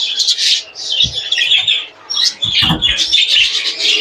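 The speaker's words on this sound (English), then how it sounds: "I'm just going to catch the bird up." A show bird being caught up by hand during show preparation gives sharp, repeated chirps and squawks, with soft rustling and brief flapping or handling thumps in between.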